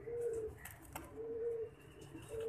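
Soft, low coos from a breeding pair of Indian pigeons repeat in a slow, steady rhythm, three drawn-out calls at even intervals over a quiet background with faint clicks.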